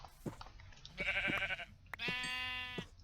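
Sheep in the Minecraft video game bleat in two short, wavering calls, one after the other, loud and close, over faint background game noise.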